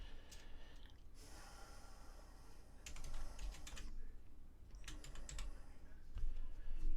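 Computer keyboard typing is heard close and fairly quiet, with bursts of rapid key clicks over a low background hiss and soft breathing.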